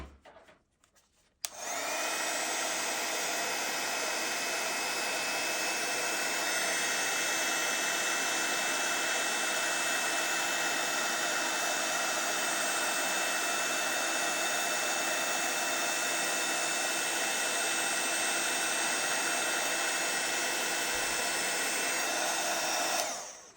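A heat tool switches on after a brief quiet moment and blows a loud, steady, whirring hiss without pause over a die-cut handbag cardmaking project, then cuts off at the very end.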